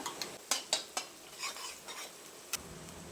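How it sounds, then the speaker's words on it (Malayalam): Sliced onion, curry leaves and green chillies hit hot oil in a pan for a Kerala-style beef dry fry, giving a soft sizzle with several sharp spoon-against-pan clinks and stirring scrapes, close and with no talking. "ഇതിലേക്ക് 1 സവാളയുടെ പകുതി, കുറച്ച് കറിവേപ്പില, 3 പച്ചമുളക് ഇവ ചേർത്ത് കൊടുക്കാം."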